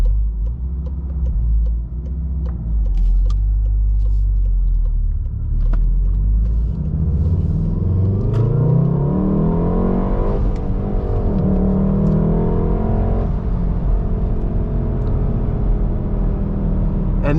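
A 2019 Volkswagen Golf R with a six-speed manual pulls away from a stop in second gear, its engine note climbing steadily in a loud, rising rumble before easing off, heard close from inside the car.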